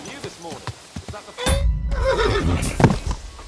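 A horse in Kingdom Come: Deliverance II neighs in a clear, wavering whinny, followed by snorting and hoof clatter up close, with no talk.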